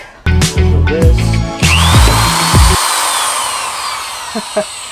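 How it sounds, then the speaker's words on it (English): A power drill whirs in several loud, stop-start bursts while drilling aftermarket car side skirts, then winds down into a fading whine as the drill breaks, followed by a couple of faint clicks. "we can actually drill the aftermarket side skirts on top of the side skirts"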